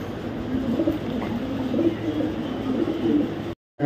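Pigeons in a loft coo in a steady low murmur, overlapping calls rising and falling throughout, close and moderately loud, before a brief drop to silence near the end.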